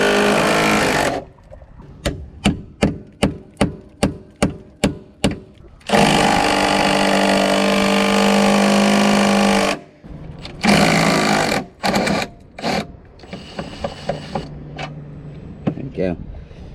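An impact wrench hammers at the tight rear trailing arm bolts of a BMW E46 in a sequence of rapid loud bursts, a run of short pulses then longer sustained rattles, with a person talking between them.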